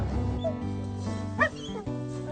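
Dogs freed to chase a cat on a ranch in Argentina give a sharp yelp-like bark near the middle, over steady droning tones and low background sound.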